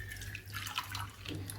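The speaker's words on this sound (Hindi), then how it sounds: "इसमें डाल दीजिए 1 गिलास पानी।" Water from a glass is poured over dried chilli stems: a faint, brief splashing and trickling with small drips, close and quiet.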